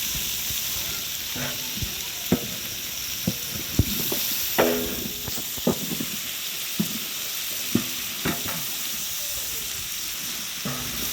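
Garlic sizzles and crackles in a hot pan with a constant hiss, punctuated by scattered clinks and scrapes of stirring.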